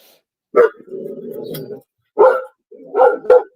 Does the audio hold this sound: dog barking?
yes